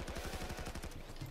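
Rapid automatic gunfire in the Payday 2 video game, a dense string of fast repeating shots held steady at close range for the whole stretch with no talk over it.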